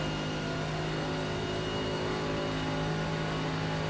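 A race car engine held at full throttle in the iRacing sim, a steady, loud, unbroken drone with a strong constant tone and no change in pitch.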